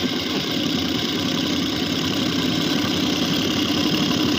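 A sewing machine runs stitches after its tension spring is replaced and tightened, giving a loud, steady, continuous mechanical whir with fast rattling ticks close by.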